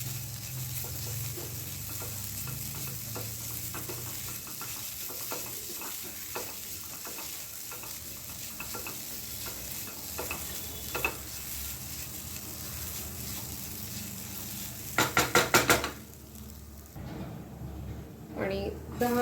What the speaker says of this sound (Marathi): आणि 10 मिनिटं मिश्रण हे मी परतून घेतलेलं आहे मीडियम टू लो फ्लेमवरती.